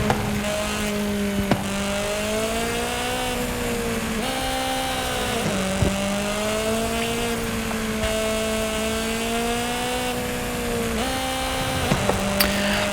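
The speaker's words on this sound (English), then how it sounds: "The engine sounds insane." Toyota car engine in Forza Horizon 5, driving fast down a hill: a strong, buzzing tone that holds steady, dips and climbs again with each shift, sustained the whole way.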